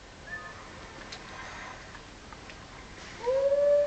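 A wolf lets out a single rising howl near the end in The Legend of Zelda: Twilight Princess, loud and close after a few seconds of quiet game ambience; no one speaks.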